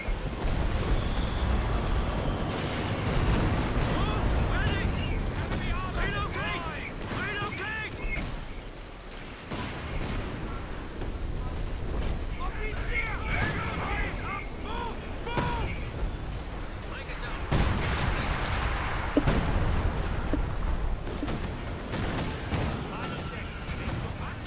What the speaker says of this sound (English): I'm bombing right there.